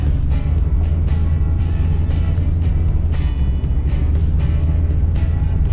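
Engines of cars cruising at a Thursday evening cruise night in East Dubuque rumble loudly and steadily, with a deep continuous drone and rhythmic pulsing close by.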